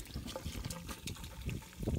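Dawn dishwashing liquid poured into a container on a truck bed, a close, continuous gurgling trickle of thick liquid with faint outdoor background.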